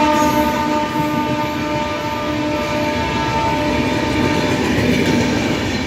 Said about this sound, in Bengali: এটা ট্রেন, এটা ট্রেন।